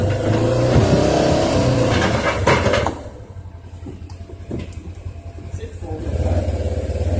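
A car with Ford Focus wheels stuck and revving hard, a loud engine roar with spinning wheels that drops away after a few seconds and then builds again, with a voice speaking over it.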